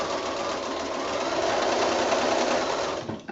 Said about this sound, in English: I've started sewing along here now